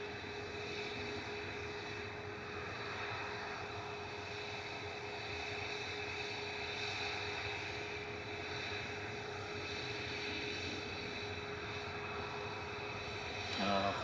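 A Boeing 737-800 jet airliner at Manchester Airport produces a steady, continuous engine drone with a sustained whine and low rumble, moderately distant and unchanging for the whole stretch, with a brief knock near the end.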